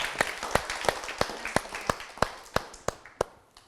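Rhythmic clapping for a Spanish dance performance at a talent festival, about ten evenly spaced sharp claps in a steady beat, fairly close and fading slightly toward the end.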